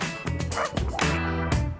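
Close, loud yips and barks from a dog at a grooming salon come in quick bursts with brief whines between them, forming one short, excited run of canine sounds.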